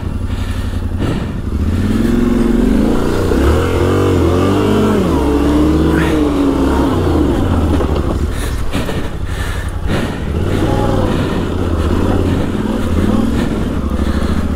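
Yamaha Tenere 700 motorcycle ridden off-road on non-knobbly tyres, loud close engine droning and revving with rising and falling pitch, plus wind buffeting and clatter over rough ground.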